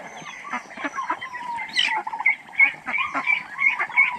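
Chickens cluck in a busy farmyard at close range, with irregular overlapping bursts and a few sharper squawks.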